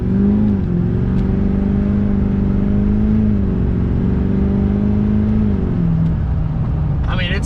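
An older diesel truck accelerating hard, its engine roaring loud and close with a steady drone that climbs slightly in pitch. The roar holds throughout, and a brief bright sound comes in right at the end.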